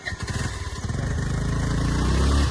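A scooter engine labours on a rough, badly broken road, its steady motor drone loud and close throughout, with a rhythmic pulsing at first that smooths into a continuous strained hum.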